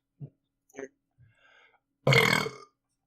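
A loud, drawn-out burp lasting about half a second comes from a person in a casual anime-discussion chat, following a few brief, quiet sounds.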